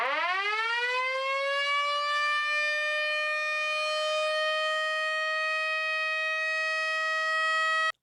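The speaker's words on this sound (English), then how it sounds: "the Billups had a Federal Signal Model A siren," A Federal Signal Model A air raid siren at a railroad crossing winds up from a low growl to a steady, piercing wail, holding its tone loudly before cutting off abruptly.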